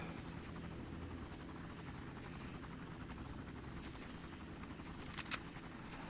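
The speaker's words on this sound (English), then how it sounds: "There's another helicopter." Helicopter in the shooter game Far Cry, a continuous rotor thrum and engine drone holding steady at moderate level, with a couple of brief sharp clicks near the end.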